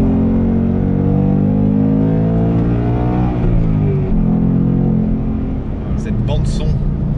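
Ford Mustang Bullitt V8 rumbling loud and close, its deep engine note rising steadily in pitch as it revs, then falling back to a lower drone, with a few faint clicks near the end.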